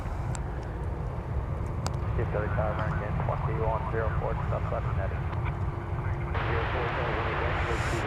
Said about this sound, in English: we're looking at the underbelly of the 747 there, as it's almost time for it to get pushed back